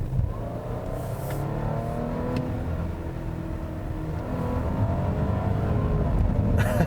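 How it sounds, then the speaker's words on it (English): A 2017 Audi Q7 3.0T SUV engine revs up steadily under acceleration, a smooth rising drone with climbing tones that grows slightly louder toward the end. "the engine itself makes a pretty pleasing sound when you push it"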